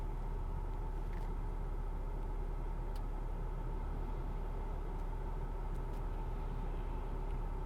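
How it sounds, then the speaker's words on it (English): A diesel BMW X5 engine runs quietly as a steady low rumble with a smooth, even hum throughout and no talking. "this diesel X5 is like whisper quiet"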